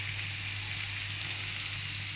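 Oil sizzling steadily in a frying pan on a home stove, a continuous close hiss with a low mains-like hum underneath and no talking.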